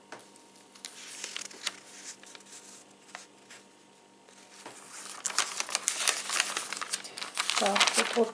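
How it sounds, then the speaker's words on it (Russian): Glossy pages of a 2017 Avon paper catalog turned one after another, crisp crinkling and rustling swishes that grow louder and busier toward the end, with some quiet stretches between. "Такая интересная тоже страница, поэтому мы ее тоже пролистаем."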